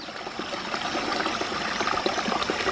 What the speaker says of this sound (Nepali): छोरा खोलामा खेल्दैछ है